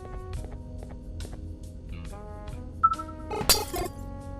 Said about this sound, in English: manipulate the drone to hit this yellow glass